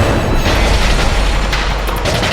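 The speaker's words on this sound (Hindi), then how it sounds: "तोप चलाओ।" A deep, heavy cannon boom rumbles loudly and continuously in a historical drama battle scene, with sharper blasts layered near the end.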